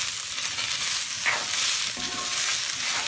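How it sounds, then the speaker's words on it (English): Vegetables with summer squash sizzle in a hot pan as a utensil stirs them, a continuous close frying hiss with a brief scrape and clink midway. "Give these a quick stir around."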